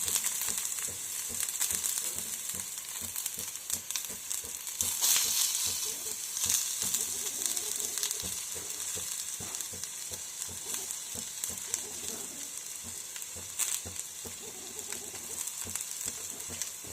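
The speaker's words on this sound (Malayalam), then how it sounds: "ഇത് എണ്ണ ചൂടായിട്ടുണ്ട്. ഇതിലേക്ക് നമ്മൾ സവോള ഇട്ട് കൊടുക്കുന്നു." Sliced onion frying in hot oil on a low flame, a continuous crackling sizzle with small popping ticks throughout, fairly quiet and steady, with no talk.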